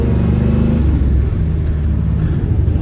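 A sixty-year-old unrestored truck engine rumbles loud and close as the driver shifts gears, its steady low drone briefly dropping and changing pitch with each slow shift.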